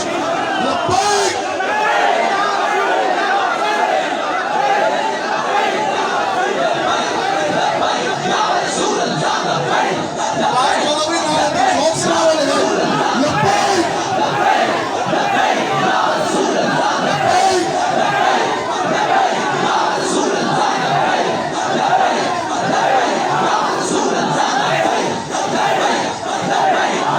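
Large crowd chanting slogans at a Milad-un-Nabi religious gathering, a dense, loud roar of massed voices rising in sustained rhythmic shouts for nearly half a minute with no pause.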